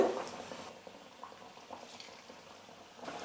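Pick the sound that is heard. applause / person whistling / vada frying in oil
vada frying in oil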